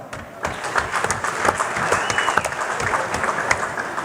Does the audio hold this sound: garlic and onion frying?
no